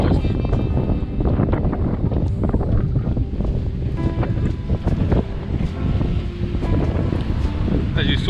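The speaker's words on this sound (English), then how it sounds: "Wind's dying down a little bit." Wind at sea aboard a sailboat on the Wild Coast of South Africa, with a loud, constant buffeting rush of wind against the microphone and surging water underneath.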